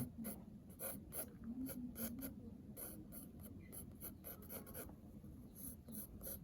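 Pencil scratches on paper in quick, uneven strokes while a shadow is sketched, each rasp soft and close in an otherwise quiet room.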